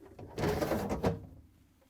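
A GE refrigerator's upper crisper drawer slides in on its rail rollers with a short rolling scrape lasting about a second, close and fairly quiet.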